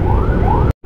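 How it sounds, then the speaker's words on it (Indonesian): An ambulance siren wails loudly in Jakarta traffic, its rising sweeps over a heavy low rumble of engines, then cutting off abruptly near the end. "dengar suara ambulan ya di Jakarta"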